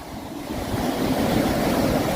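Waves wash onto a beach in Kannur, Kerala, giving a steady broadband surf rush that swells slightly over two seconds, with faint wind and no voices.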